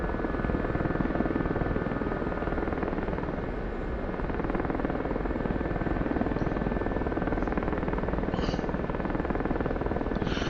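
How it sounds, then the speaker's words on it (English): Gazelle helicopter in the DCS flight simulator flying low and fast between trees and buildings, a loud continuous rotor and turbine roar filling the whole clip without a break. "Flying the Gazelle low level fast speed here in DCS between the trees and the building did the same job."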